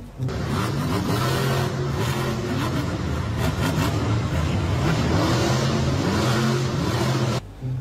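An orange monster truck engine revs repeatedly up close, rising and falling in rapid surges over a rough, gritty rumble.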